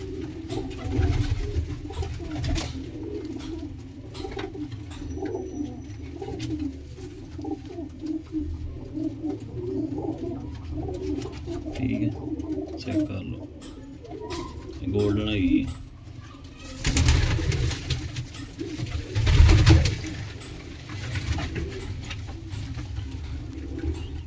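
Several pigeons at a bird market coo in overlapping, rhythmic phrases nearby, joined by scattered rustling and fluttering, with someone speaking at times over the birds.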